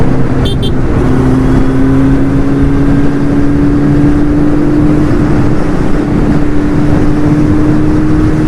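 A Kawasaki Z900 motorcycle fitted with a new aftermarket exhaust cruises steadily, its loud continuous engine drone slowly rising in pitch as it gains speed, close and unbroken with no talking.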